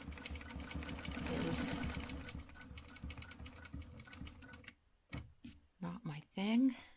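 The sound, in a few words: sewing machine stitching along a quilt block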